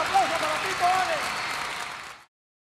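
Applause at a live salsa tribute concert for a timbal player: dense, steady crowd clapping with a voice or whoop rising briefly over it, then cutting off abruptly.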